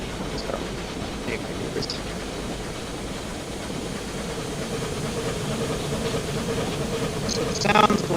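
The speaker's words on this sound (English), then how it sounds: "the sounds of the two locomotives were taken from an engine called York" Steam locomotive in Train Simulator Classic, with sounds taken from the engine York: a steady hissing, chuffing rumble that holds throughout and swells slightly toward the end, with faint clanks over it.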